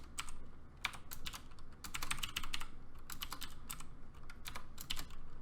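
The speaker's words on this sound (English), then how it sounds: "I'm just gonna type in something really quick here." Quick bursts of typing on a computer keyboard, close and crisp clicks in uneven runs with short pauses, alone without speech.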